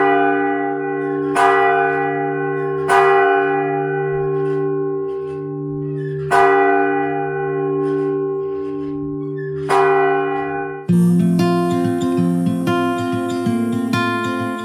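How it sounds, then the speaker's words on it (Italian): Church bells in Fiumedinisi, Sicily, rung by hand, ring out in loud, repeated strikes with long ringing tails, then several bells clash together in a dense, busy peal. "porta avanti l'antico sapere del suonare le campane."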